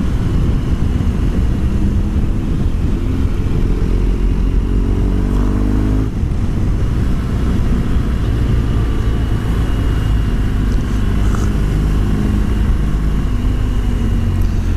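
A BMW R1200GS motorcycle cruises along an Alpine touring road. Steady, loud engine drone blends with heavy wind rush, continuous and close throughout with no talking.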